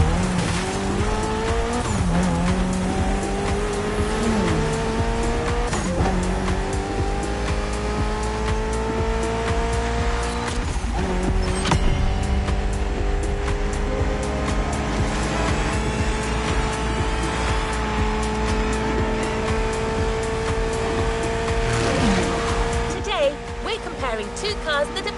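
Race cars in The Crew Motorfest video game roar continuously, engines rising and falling through gear changes while tires squeal in several bursts, loud and sustained throughout.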